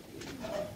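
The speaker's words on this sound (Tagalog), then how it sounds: "nandito ng ibon natin. Hindi siya makadapo." A racing pigeon gives a short, soft coo, faint against a breezy outdoor background.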